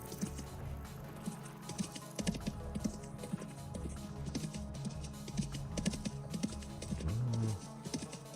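Horse hooves clip-clop in a steady, repeated rhythm as a ridden horse travels in the game Vintage Story, fairly close and continuous, with no talking.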